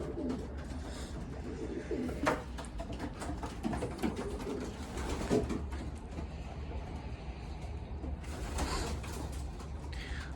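About 40 pigeons coo softly in an enclosed loft amid rustling and fluttering wings, with a few mechanical clicks and shuffles in the background.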